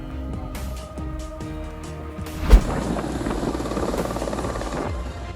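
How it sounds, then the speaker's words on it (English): A rescue helicopter's steady rotor thump and engine whine, close and fairly loud, in mountains, with a sharp bang partway through. "A rescue helicopter transported the injured cow down the mountain to see the vet."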